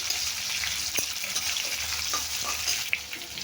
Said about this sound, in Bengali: অল্প পেঁয়াজ দিচ্ছি তেলের মধ্যে। পেঁয়াজটা হালকা ভেজে নেওয়া হবে।